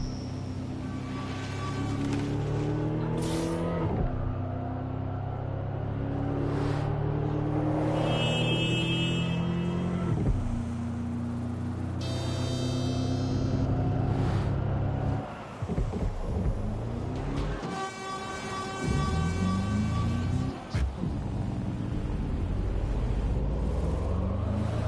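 A car driven in Watch Dogs: Legion rumbles steadily throughout, its engine tone rising and shifting as it accelerates and changes gear, with occasional bumps and wind noise.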